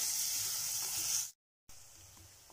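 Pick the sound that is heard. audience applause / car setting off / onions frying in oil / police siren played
onions frying in oil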